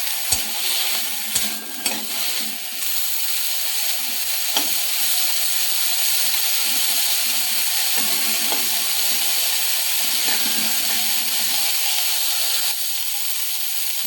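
Neem leaves fry and sizzle in a pan over a low gas flame, a steady hiss broken by scraping stirs and a few clinks of the utensil against the pan, close and continuous with no talking.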